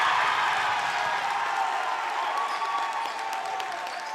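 A high school basketball crowd in a gym applauds and cheers steadily after a made shot in a game against Mt. Abraham, a dense wash of clapping that holds loud and fades slightly toward the end.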